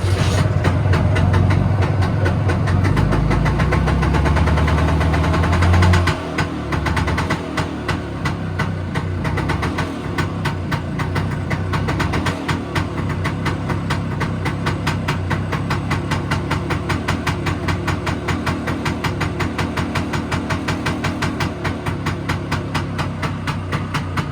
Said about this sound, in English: I just need to tighten it up now and fire the bike up